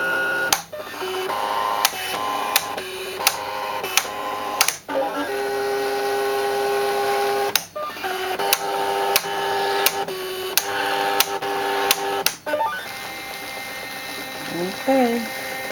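Mechanical whirring and rhythmic motor passes from an eCraft cutting machine working without a mat, punctuated by regular clicks and brief pauses, steady and close, with a voice talking faintly near the end.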